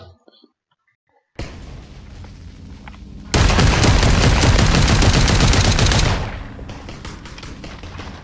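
Gunfire in the VR shooter game Population One, a loud dense burst of rapid automatic fire lasting a few seconds after a quieter stretch, then fading to background game noise.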